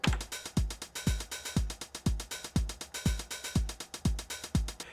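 A Roland TR-909 drum machine pattern: booming kick drums on a steady pulse with bright closed hi-hat ticks and longer open hi-hat hits, looping evenly and loud with no voices.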